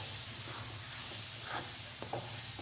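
Grated coconut fries in a wok (kadai) while being made into ladoo, a soft, steady hiss of frying with faint stirring scrapes now and then.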